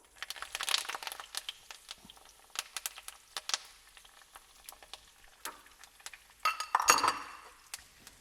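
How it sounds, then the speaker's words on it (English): Chopped red onions and garlic cloves go into hot oil for a crab curry, giving scattered clinks and crinkly rustles with bursts of sizzling, close up and uneven, with no voices. "Chopped up some red onions and some garlic cloves as well. So I'm just going to add that to the oil."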